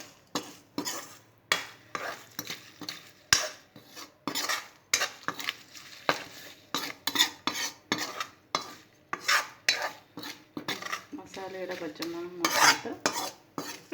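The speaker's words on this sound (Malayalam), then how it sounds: "അത് നന്നായി ഇളക്കി കൊടുക്കാം." A spoon stirring turmeric masala for lemon pickle in a pan, with repeated scraping and clinking strokes in an uneven rhythm, close and fairly quiet, and no voices.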